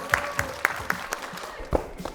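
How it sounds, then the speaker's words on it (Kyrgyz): Studio audience clapping at a Kyrgyz couples' game show, a series of sharp separate claps in an uneven rhythm, fairly close, with little crowd noise around them. "Кол чабуулар."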